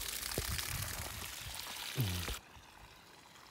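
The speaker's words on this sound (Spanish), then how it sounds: "Este agua la riego las plantas." Water poured out to water plants at an outdoor wood-fired cooking hearth, a steady splashing pour that stops abruptly partway through, leaving quiet.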